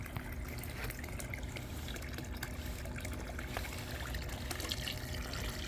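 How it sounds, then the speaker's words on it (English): Steady rush and trickle of water from a pump return pipe flowing back into a swimming pool heated by a homemade heater, continuous and close with no talk. "where the water is being pumped back to the swimming pool."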